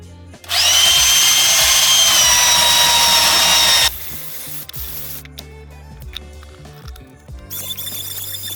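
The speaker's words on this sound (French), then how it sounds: "je les prépare rapidement avec un coup de ponçage et un coup de rabotage" Power sander and planer working pallet wood planks, a loud steady whine for about three seconds close by, followed by quieter workshop clatter and tool noise.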